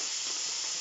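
Chopped cheap olives sizzle in a hot pan, giving a steady, close, loud hiss with no break and no talking.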